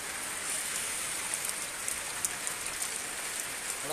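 Heavy rain pours steadily during a flood in Martapura, a dense, constant hiss of drops drumming on surfaces, close and fairly loud, with no voices.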